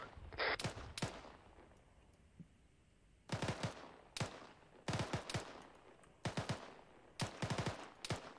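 Automatic gunfire in Arma 3 rattles in sharp, loud bursts separated by short pauses, with a few single shots, and no talking.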